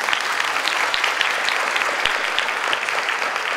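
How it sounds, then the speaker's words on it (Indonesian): Warm, steady applause from a large conference audience at an Indonesian diaspora congress, many hands clapping together throughout without a break. "Mari berikan tepuk tangan."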